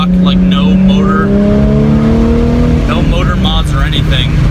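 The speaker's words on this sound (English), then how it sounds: "Just 4-liter 3-valve V6, and I'm driving around town. It's got a great tone." A stock 4-liter three-valve V6 with a Pypes mid-muffler true dual cat-back exhaust, driven around town, its steady low exhaust drone rising and falling with gear changes, close and loud, while someone talks over it.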